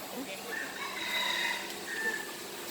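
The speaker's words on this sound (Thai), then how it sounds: "มีไก่ด้วย" A rooster crows at a zoo, heard at mid distance against an outdoor background with other birds and faint voices nearby.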